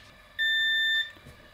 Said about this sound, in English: One single beep.